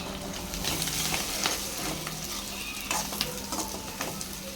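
Egg is broken up and stirred in a hot pan for egg rice, a close sizzle punctuated by repeated scraping strokes of a spatula against the pan in an irregular rhythm.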